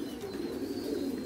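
Pigeons cooing nearby, a continuous low throaty murmur held steady with no pauses and no voices over it.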